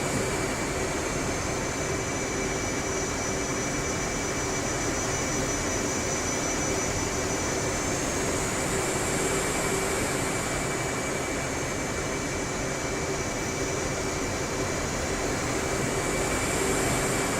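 Military jet departing a runway, heard as a loud, constant engine roar with a steady high whine that slowly rises and falls, unbroken and continuous with no one talking.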